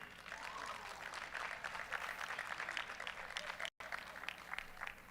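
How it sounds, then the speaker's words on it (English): Crowd applause at a powerlifting meet, a steady wash of many hands clapping at moderate distance, briefly cut by a moment of silence. "A big round of applause."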